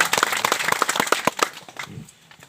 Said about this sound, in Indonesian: Berikan tepuk tangan buat mama semuanya.